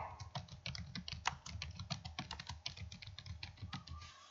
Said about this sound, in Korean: 이 스페이스 바키를 눌러서 사이뜨기를 해주시면 되겠습니다.